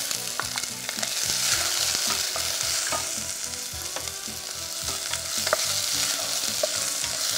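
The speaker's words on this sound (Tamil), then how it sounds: "வெங்காயம் கொஞ்சம் லேசாக வதங்கினா போதுங்க." Onions sautéing in hot oil give a steady, close sizzle broken by regular scraping and stirring strokes of a spoon against the pan, with no voices.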